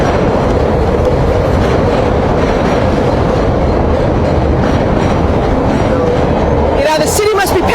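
Train rumbling past close by, a loud continuous roar with rattling wheels throughout, ending in a burst of higher squealing; a voice can be heard under the noise.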